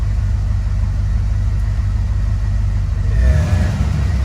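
A car engine idles with a steady low rumble, then revs up briefly as the gas is pressed, the pitch rising near the end.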